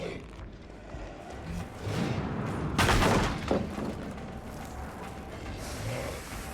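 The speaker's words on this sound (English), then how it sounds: "Firecrackers." A burst of video-game firecrackers crackles during a qualifier tournament match, a rapid cluster of sharp pops peaking in the middle over a busy background of game sounds.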